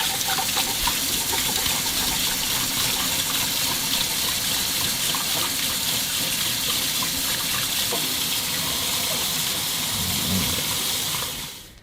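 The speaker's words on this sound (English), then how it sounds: "pour some of this out into the trash can instead of putting all this down the drain" Leftover liquid from cleaning a paint roller and pan is poured into a trash can, a continuous close splashing gush that runs steadily and stops abruptly at the end.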